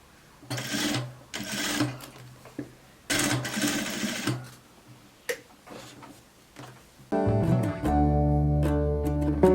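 A straight-stitch sewing machine works on a raglan-sleeve coat in several short, loud bursts of rapid stitching separated by pauses and clicks, then shifts into a steadier, humming run near the end.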